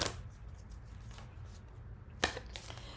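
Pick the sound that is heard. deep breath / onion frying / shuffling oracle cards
shuffling oracle cards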